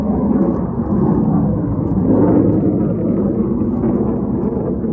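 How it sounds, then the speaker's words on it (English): A heavy, continuous roar of military jets flying overhead, broad and rumbling, holding steady at high volume without any talking. "We have the jets passing by"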